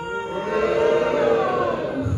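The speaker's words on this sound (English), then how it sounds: "can you guys just start booing me real quick? Just start booing." A live comedy-show audience at a casino booing the comedian on request, a sustained loud crowd rumble of voices lasting a couple of seconds and swelling slightly before tailing off.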